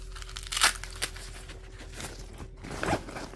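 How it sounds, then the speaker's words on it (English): A ski bag's main zipper is pulled open in a few short rasping bursts, close and fairly quiet, with a soft rustle of fabric between the pulls. "you have the main zipper."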